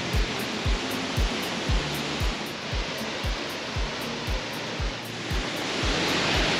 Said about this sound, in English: I think it's the most beautiful waterfall I've ever seen.